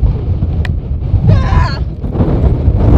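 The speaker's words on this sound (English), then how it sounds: "Gosh, it's even windier!" Strong wind gusting across the Devil's Golf Course salt flats in Death Valley, a steady low roar of buffeting against the microphone throughout, with a brief higher whine partway through.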